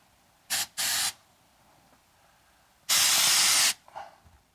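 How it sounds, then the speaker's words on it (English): Pam cooking spray hissing from the can into a silicone egg ring, two short bursts followed by one longer spray, close and loud against a quiet kitchen background. "I'm going to spray us one of these things on the inside of the ring."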